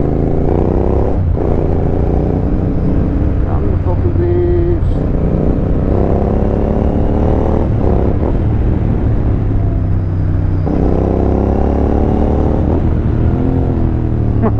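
Royal Enfield Interceptor 650 motorcycle cruising on a long road ride in Himachal, a loud continuous engine drone with steady rumble and slight pitch shifts as the throttle changes, close and dominant throughout.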